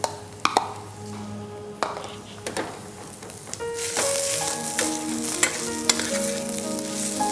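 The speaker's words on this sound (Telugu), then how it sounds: "నెక్స్ట్ ఈ మిక్స్ చేసుకున్న ఈ మిక్చర్ని ఆనియన్స్లో సాటే చేయాలి" Stuffing mixture for stuffed tomatoes being sautéed with onions in a pan with a few drops of oil, sharp spoon taps first, then a loud steady sizzle under ongoing stirring.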